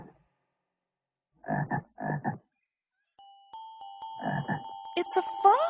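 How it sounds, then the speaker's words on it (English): Frog croaks in short, rough bursts, in two close pairs and then another burst, set within a children's jungle action song, with a steady tone and musical notes entering toward the end. "It's a frog."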